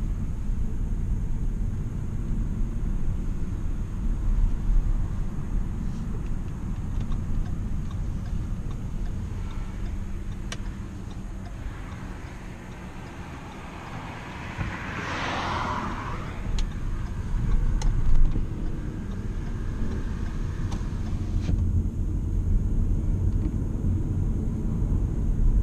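Inside a car driving around Port Orange, Florida, a steady low road rumble and tire hum run throughout, rising and easing slightly with the car's speed, with no talking.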